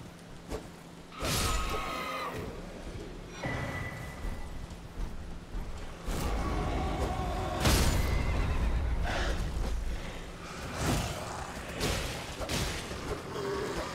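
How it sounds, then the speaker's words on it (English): A horse in the Elden Ring video game gallops and whinnies amid game effects, with several sharp bursts and booming impacts over a steady rumbling bed of in-game sound, and no speech. "Get on our trusty steed and dash through the fog."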